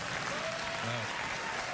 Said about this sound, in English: I think you can applaud.